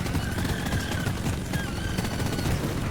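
Rapid gunfire from the Deep Rock Galactic video game, a dense fusillade of overlapping shots rattling steadily for a few seconds at moderate level with a faint tonal whine above.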